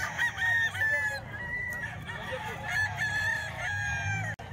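A lemon brown head gamefowl rooster crows loudly up close in drawn-out calls, with other fowl clucking and calling nearby.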